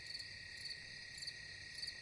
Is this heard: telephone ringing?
no